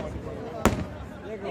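A single sharp firework burst over Lake Tahoe, one loud crack that decays quickly, with people talking and crowd murmur around it.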